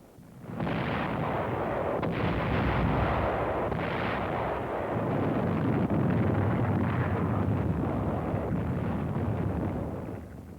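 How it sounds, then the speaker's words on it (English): Continuous rumbling barrage of World War II artillery fire on Okinawa, a dense roar of overlapping booms with wind-like noise, sustained and loud with no distinct individual shots. "Artillery, supported by tanks, went to work on the enemy's defensive line."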